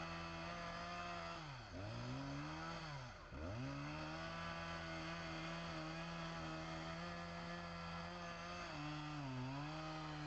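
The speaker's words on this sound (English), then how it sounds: "Specialized equipment, such as chainsaws and ropes, are used to make precise cuts on the trunk." A chainsaw cuts into a big cypress tree trunk, its engine droning steadily and loud with a couple of brief dips as the load changes, running continuously for ten seconds without any voices.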